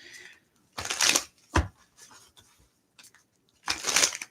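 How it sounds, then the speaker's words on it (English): A deck of playing cards is shuffled up close in several quick riffling bursts separated by short quiet gaps. "Let's shuffle these in."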